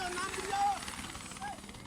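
A helicopter's rotor throbs in a rapid, steady chop with engine whine, fairly close and continuous, while a voice speaks over it.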